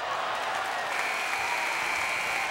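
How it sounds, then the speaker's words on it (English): A pumped-up home crowd at an FGCU Lady Eagles women's basketball game roars and applauds steadily, a dense wash of cheering and clapping filling the arena without a break, with a sustained whistle-like tone rising partway through. "listen to this FGCU Lady Eagle crowd. They are pumped up with 11:41 left."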